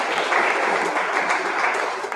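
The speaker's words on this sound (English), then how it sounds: "Let's give a big round of applause for Team K" Audience at an all-India school debate competition claps for a team's first participant, a dense, even burst of applause filling the room for a couple of seconds before tapering.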